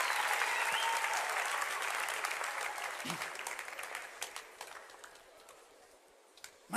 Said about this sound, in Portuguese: Dá uma salva de palmas para eles, por favor.